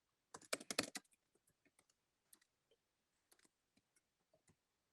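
Keystrokes on a computer keyboard, a dense burst of quick clicks followed by sparse, scattered taps, quiet and close, with no talk.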